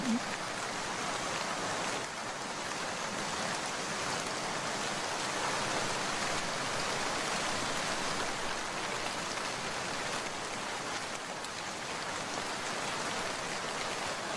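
Steady heavy rain pours throughout a stormy night scene in a cartoon, a dense continuous hiss with no voices over it.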